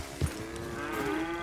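Florida Cracker cattle in the video game Red Dead Redemption 2 give a single short low moo near the start, and a steady game ambience with a faint tonal hum carries on after it.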